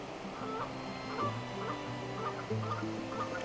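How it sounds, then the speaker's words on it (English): Geese honk in the background of a park beside a waterfall at Falls Park on the Reedy in Greenville, with faint repeated calls over steady rushing water. "the geese are yelling in the background"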